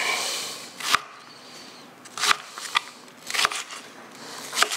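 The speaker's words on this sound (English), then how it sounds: "So we're just going to cut these onions up." Onions being cut for a fermented Louisiana-style hot sauce, heard as several sharp, close knife chops on a board spaced irregularly, with a crisp crackle of onion between strikes.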